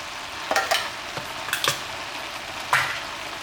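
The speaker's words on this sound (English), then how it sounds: "Two tins of chopped tomatoes." Two tins of chopped tomatoes go into a pan of homemade chilli con carne: a few sharp metallic clanks and scrapes with a soft stirring, wet shuffle between them, close and moderately quiet, no talking.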